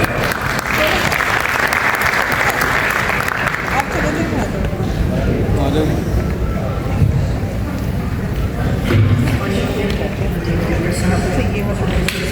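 Audience applause at an Urdu poetry recital, dense, sustained clapping from a seated crowd, with a voice speaking over the start.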